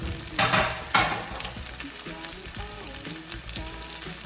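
Meat sears in a hot pan with a steady crackling sizzle, as pieces are flipped to their other side. Two louder bursts come early, then the frying continues at a fairly even level with no voices.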